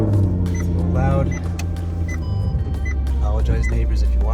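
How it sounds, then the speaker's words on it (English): Car engine started and idling at 5 a.m. on a chilly 47-degree October morning, a steady loud low rumble filling the clip with a brief dip partway, faint voice traces over it. "turning on my car, 5 o'clock in the morning, waking up my neighbors"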